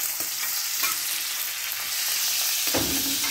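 Carne de sol fries together with torresmo in a pan for feijão tropeiro, a dense, continuous sizzle with a few utensil scrapes and knocks, close up and steady, with no voices.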